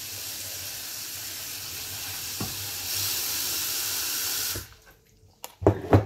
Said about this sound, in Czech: Podlejeme to vodou. Já si tam takhle naliju tu vodu.